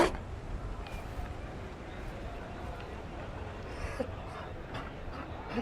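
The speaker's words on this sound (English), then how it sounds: "You found a dog." A Mabari war dog in Dragon Age: Inquisition pants and whimpers amid a dense wash of game ambience, with a voice speaking nearby.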